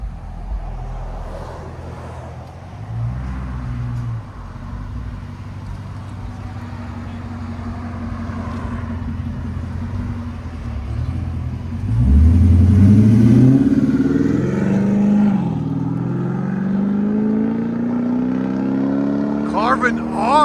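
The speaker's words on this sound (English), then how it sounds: "No rasp whatsoever, as you guys can see with that Hemi" A 2025 Dodge Durango R/T with a 5.7L Hemi V8, X-pipe and Carven R-Series exhaust idles with a deep, close rumble, then revs hard in a couple of rising, roaring pulls before settling back, with a voice briefly heard.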